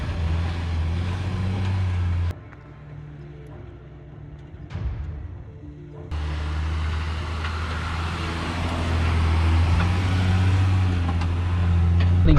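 A Land Rover Defender with a short-wheelbase trailer grinds off-road over rocky OHV terrain, its engine a loud, steady low drone that drops away for a few seconds, then returns and builds toward the end.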